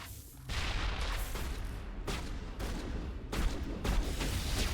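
A grenade goes off in the video game Mass Effect among a run of sharp, booming combat blasts and gunfire, several loud bursts in quick succession.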